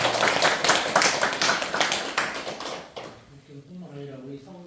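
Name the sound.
audience clapping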